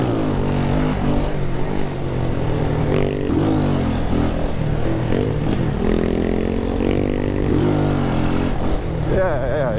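A motorcycle with a loud muffler revs on a morning ride in Jamaica, its engine note rising and falling loud and close throughout, while people talk over it.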